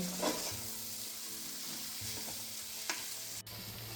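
Half a kilo of washed chicken pieces hitting hot oil with ginger-garlic and chilli paste for Ambur biryani, frying in a pot with a steady close sizzle, broken by a few scrapes and knocks of stirring.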